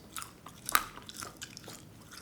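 Close-up chewing of fake meat made from ripe cempedak jackfruit: one sharp, loud crunchy bite, then a string of softer, squeaky chews with no talk.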